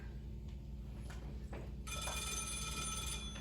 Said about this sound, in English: every time that phone rings